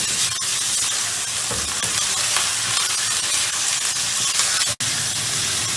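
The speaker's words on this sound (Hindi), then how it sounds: "अब इसमें कीमा ऐड कर देंगे हम, और इसको अच्छा सा हमने भून लेना है" Minced meat (keema) fries in a hot pan with a steady, loud, dense sizzle and stirring scrapes throughout, with one brief dropout near the end.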